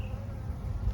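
A steady, low insect buzz from many honey bees humming together close by at a weak hive, with a slightly louder swell near the end.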